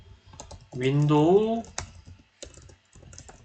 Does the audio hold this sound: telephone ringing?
no